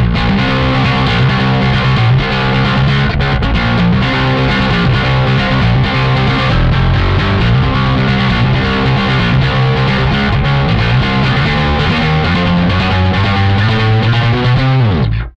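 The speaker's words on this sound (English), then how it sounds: "Strong distortion, played with a pick." Bass guitar played with a pick through an Aguilar Agro distortion pedal, giving a loud, heavily distorted, steady riff that continues throughout and ends with a downward slide.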